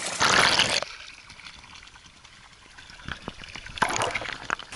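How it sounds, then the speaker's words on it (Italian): Water jet from a fountain, a renovated structure in reinforced concrete, gives a loud splashing rush at the start, then a softer steady trickle with intermittent spatters and a renewed burst near the end. "il getto dell'acqua che ogni giorno sgorga dalla fontana"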